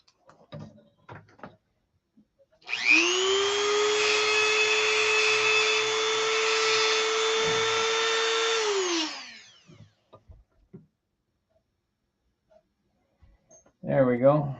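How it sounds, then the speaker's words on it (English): A power tool whines steadily for about six seconds while deburring the edge of a tube for a clunk tank, then spins down. Brief talk and handling noises come before and after it. "Deburr it."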